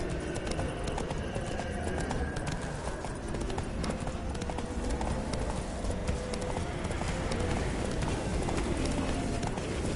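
Horse hooves clip-clop in a steady walking rhythm throughout The Witcher game, a continuous close clatter of hoofbeats with faint bird calls and ambient outdoor sound underneath.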